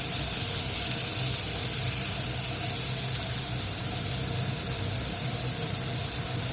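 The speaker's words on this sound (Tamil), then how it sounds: "அடுப்பை லோ ஃப்ளேமில் வச்சுட்டு 40-50 செகண்ட்ஸ் வரைக்கும் வதக்கணும்." Onions sauté over a low flame for Tirunelveli-style potato puttu, producing a steady, even hiss and sizzle that runs unbroken from start to finish with no voices.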